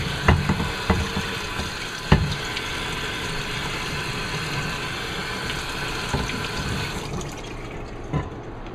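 Water runs steadily over a part of a McCulloch MC1275 steam cleaner, with a few knocks and clunks, and then the flow fades near the end. No one speaks.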